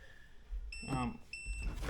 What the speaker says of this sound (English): As soon as you try to use this thing, it just starts beeping at you.